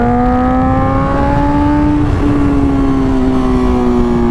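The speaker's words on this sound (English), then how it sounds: "I just crank back that throttle" A 2020 BMW S1000RR motorcycle engine revs hard as the throttle is cranked open, a loud, close, sustained high-pitched howl with rising harmonics that climb and hold steady without any talking.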